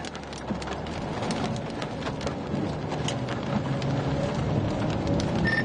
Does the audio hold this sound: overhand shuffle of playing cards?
no